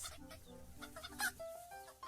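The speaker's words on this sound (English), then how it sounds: "3 fat, happy little hens strutted about like they owned the place." Hens cluck and murmur nearby, a few plump birds giving short, uneven clucks and one brief higher squawk in a farmyard pen.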